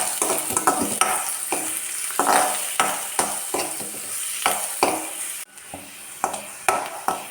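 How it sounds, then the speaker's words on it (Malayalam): Chopped shallots and garlic sautéing in hot coconut oil for a mung bean curry, a constant sizzle punctuated by rhythmic spoon scrapes roughly every half second, close up with no speech. "വെളിച്ചെണ്ണ ചൂടാകുമ്പോൾ ഇതിലേക്ക് അരിഞ്ഞു വെച്ച ചുവന്നുള്ളിയും വെളുത്തുള്ളിയും ഇട്ട് കൊടുത്തിട്ട് നന്നായിട്ട് ഇങ്ങനെ വഴറ്റിയെടുക്കാം"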